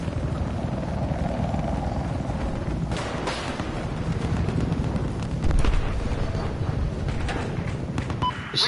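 A Battlefield 4 enemy helicopter in game, its rotor drone loud and steady throughout, mixed with explosions and heavy battle noise.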